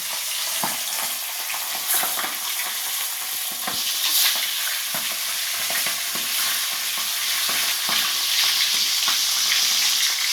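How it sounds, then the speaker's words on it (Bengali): Fish heads frying in hot, smoking oil, a steady crackling sizzle close by with scattered pops and a few stirring scrapes running throughout. "এবার তেলের মধ্যে মাছের মাথাগুলো দিয়ে দেবো।"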